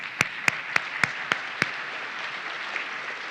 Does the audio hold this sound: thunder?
no